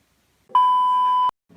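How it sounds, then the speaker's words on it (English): A phone gives a single steady electronic beep of under a second as it powers off, clean and close, starting and stopping abruptly with faint noise around it. "the phone has been powered off"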